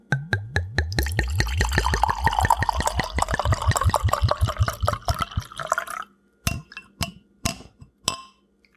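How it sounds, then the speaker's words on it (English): Wine is poured into a glass, glugging rapidly in a quick burst of rhythmic gurgles that slows and ends, followed by a few separate clinks and drips up close. "I'm going to pour my glass so we can get the ASMR noise"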